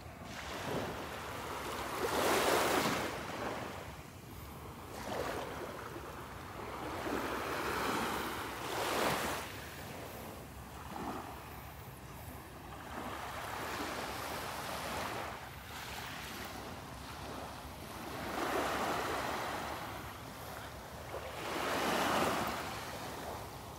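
Small waves lap softly on the shore at Delnor-Wiggins beach, each gentle wash swelling and fading every few seconds, faint and tranquil under light wind with no talking.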